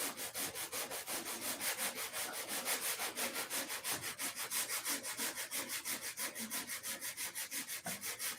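Primed spots are hand-sanded in steady back-and-forth strokes, a close, even, rhythmic scratchy rasp that repeats about three times a second, with no talk over it.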